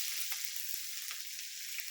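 Onions, green chillies and bay leaves frying in hot oil for an Assamese Amita khar recipe, a steady bright hiss of sizzling with a few faint stirring ticks, close and continuous, with no talk.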